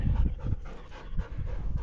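A three-year-old dog pants in quick, rhythmic breaths close by, with a few soft whimpers mixed in, around horses.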